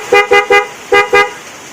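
Denso snail-type car horn fitted to a Honda Beat Pop scooter, sounding five short, loud honks close up, three quick blasts, a brief gap, then two more, each with a bright buzzing tone.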